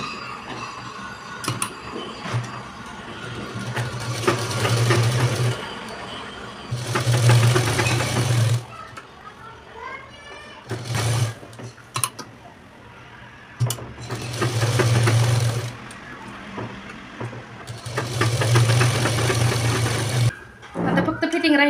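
A sewing machine stitches a seam on a blouse lining in several separate bursts of rapid, humming stitching, with pauses and quiet speech between them.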